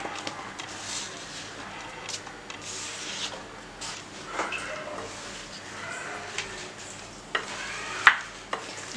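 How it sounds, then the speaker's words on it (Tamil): Mushrooms being mixed by hand into a marinade in a bowl for mushroom Manchurian, with wet squelching, stirring and a few sharp clinks, close and moderately loud, with no talk. "மஷ்ரூம் எல்லாம் இதில் ஆட் பண்ணி கலக்கி வச்சுக்கலாம்"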